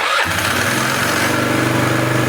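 A Polaris 325/330 Magnum ATV with a swapped engine catches abruptly and settles into a loud, steady run close by, with no talking.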